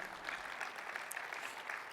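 A convention audience in a keynote hall claps together, a dense, even wash of applause sustained through the whole moment with no voices over it.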